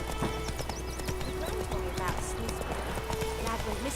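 Roach, a horse in the video game The Witcher, trotting with rhythmic hoof clip-clops and a brief whinny, set under an ongoing bed of sound and game noise.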